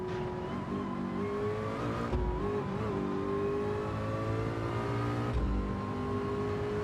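A car engine drones through a drive in Gran Turismo 7, holding a steady mid-pitched tone that rises and dips with gear changes and throttle, continuous and moderately loud, with no talking.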